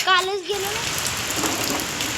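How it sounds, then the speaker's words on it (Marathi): Steady rain hisses outdoors by a roadside during a journey from Satara, an even wash of noise throughout, with a brief tonal voice or horn at the very start. "हे बघा पाऊस लागला"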